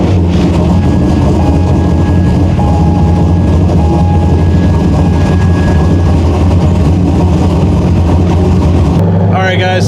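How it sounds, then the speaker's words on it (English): A Corvette Z06 engine cold-starts and holds a loud, steady rumbling idle throughout, with a brief change in tone near the end. "A little cold start action."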